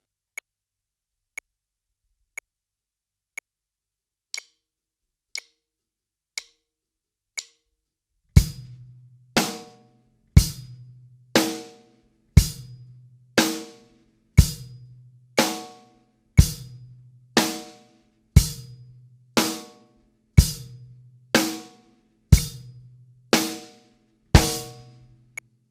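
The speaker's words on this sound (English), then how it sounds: "do a quarter note click at 60 BPM" A metronome clicks quarter notes at 60 BPM, one sharp tick per second, starting faint and alone, then joined partway through by a steady deeper beat landing on each click, with no talking.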